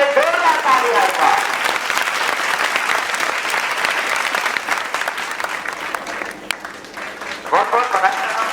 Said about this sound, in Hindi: जितेंद्र सर के लिए जोरदार तालियां आएगा